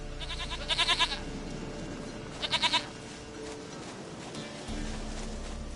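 A goat bleats in The Witcher 3, two short bursts of quavering, pulsing cries about two seconds apart over a low game ambience bed, no speech heard.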